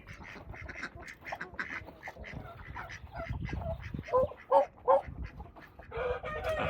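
Two foster ducks quack in a few loud, distinct bursts near the middle of the clip, with chicken and rooster sounds mixed in and steady outdoor farmyard murmur throughout.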